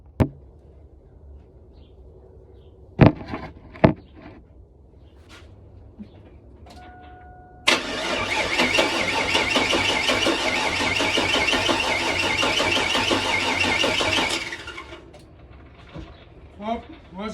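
Chevrolet Tahoe engine, freshly reinstalled after a crankshaft position sensor replacement, cranks loudly and steadily for about seven seconds without starting, preceded and followed by a few sharp clanks and clicks.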